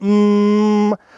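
A single sustained, buzzy tone held steady for about a second, rich in harmonics, then cutting off abruptly; a hummed call imitating an elk bugle.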